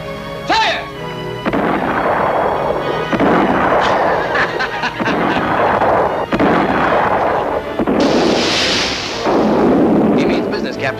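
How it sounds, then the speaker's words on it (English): A ship's starboard cannon firing in a film sound effect, a series of heavy booming blasts that roll and rumble one after another, loud and close with a dense crackling tail. "Man the starboard gun! Ready the starboard gun! Aim!"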